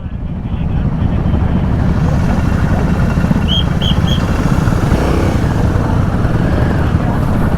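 Dense, steady engine roar from many superbikes gathered at an Independence Day bike event, loud and continuous throughout with no pauses.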